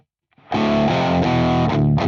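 Heavy metal guitar distortion from a UAFX Lion 68 amp pushed by a 14 grind pedal, one loud saturated chord struck and held for about a second and a half, then a quick second hit, with no voices.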